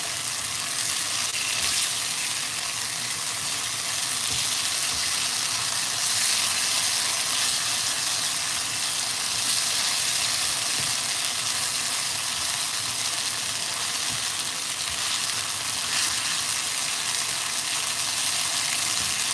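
Shrimp frying in a pot for pepper shrimp with vegetables, a constant, even sizzle and hiss that carries on without a break and without voices.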